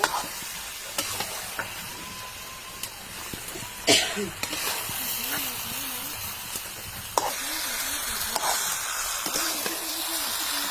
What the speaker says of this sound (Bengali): ভালো করে মশলার সাথে মাংসটা মিশিয়ে নিব তারপর কষিয়ে নিব